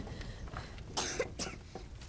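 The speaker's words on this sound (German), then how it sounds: "hör auf zu husten, es ist alles gut" A character in the video game A Plague Tale: Innocence coughs, a few short harsh bursts spread over about two seconds, heard over a low steady game background.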